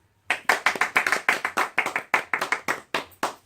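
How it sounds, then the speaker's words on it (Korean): A small audience claps in unison to welcome a pastor onto the stage, giving steady, even handclaps that run a few seconds, close and loud, with no talking over them. "목사님 나오실 때에 한번 큰 박수로 환영하겠습니다."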